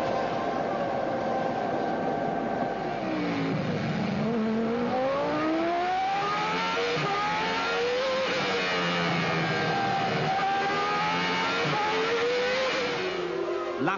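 Formula One cars of the 1995 season racing wheel to wheel, with several high-pitched engines screaming and shifting as they accelerate past, a continuous loud, layered whine that rises and falls throughout.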